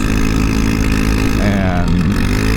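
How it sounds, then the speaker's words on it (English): A motorcycle with a loud aftermarket exhaust rumbles steadily at close range, a dense continuous engine drone with slight pitch wavering partway through. "obviously the exhaust is louder"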